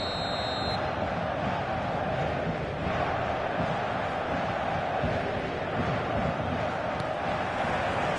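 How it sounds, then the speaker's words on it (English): A football video game plays its stadium crowd from an old-style ground where the stands sit close to the pitch. A steady roar of spectators holds at moderate level, with a brief electronic tone at the start. "An intimidating atmosphere in the crowd, a crowd so close to the pitch here in this old-style stadium"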